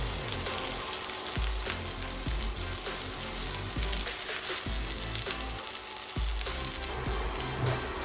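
Shrimp sizzle and crackle steadily in a hot pan, a dense continuous frying hiss with occasional soft taps.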